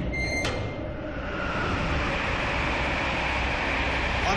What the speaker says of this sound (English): One train ride to the Shard.